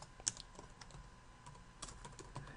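Light, quiet keystrokes on a computer keyboard, scattered taps in an irregular rhythm with a few sharper clicks, alone in a hushed room.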